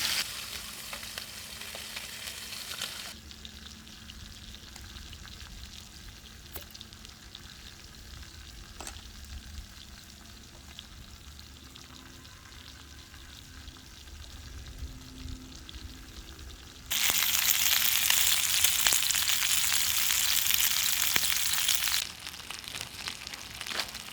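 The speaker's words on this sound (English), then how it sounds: "These chops will only take a few minutes to fry." Steady sizzling of pork chops frying in a pan, a constant crackling hiss that suddenly grows louder and brighter for several seconds, then eases back.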